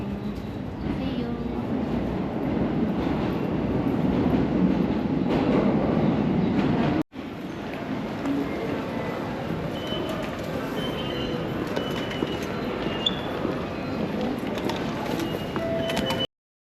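Steady rumble of a train running from Goya toward Kusatsu Onsen, heard from inside the carriage. The noise continues throughout with only a brief break partway, and faint voices may sit in the background.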